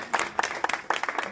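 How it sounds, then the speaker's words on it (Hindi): A short run of hand clapping from people at a religious procession gathering, several distinct claps in an uneven rhythm, fairly close and moderately loud. "जोरदार ताली बजाओ फिर दोनों हाथ से अपने से।"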